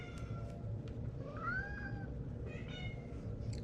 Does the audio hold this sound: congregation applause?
no